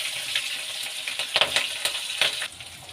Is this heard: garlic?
yes